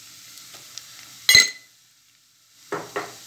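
Flour and onions roasting in a pan, stirred with a spoon: a sharp scrape and clatter, then a quiet gap before two more short stirring scrapes, all near and brief over a faint background.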